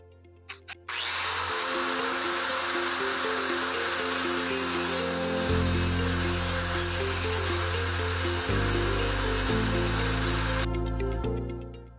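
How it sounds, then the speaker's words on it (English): Grinder cutting nylon fuel line for a Porsche 944 Turbo, a loud continuous high whine held for about ten seconds, close and alone, shifting in pitch as it bites and then spinning down. "So I'm going to use a grinder to cut this because the grinder gives us a nice clean cut"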